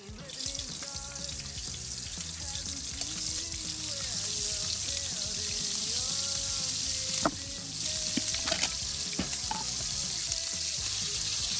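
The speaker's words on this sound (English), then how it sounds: "Make sure it gets seared." A sous vide sirloin tip steak searing in a hot pan, giving a loud, steady, close sizzle and crackle with occasional sharper spits and pops throughout.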